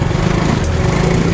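A motorcycle engine labors through flood water in a submerged rice field, a steady, loud low drone with a high whine running continuously and close by, no talk over it.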